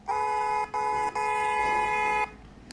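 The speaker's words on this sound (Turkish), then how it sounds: "Sadece korna var biz" A steady car horn in the Roblox game Brookhaven blares in a few long honks with brief breaks, loud and electronic-sounding, then cuts off into quiet background.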